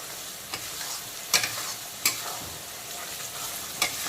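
Spices, ridge gourd and raw banana gently sautéing in a pan for a parshe fish curry, a soft continuous sizzle broken by a few crisp spatula scrapes and taps at irregular intervals.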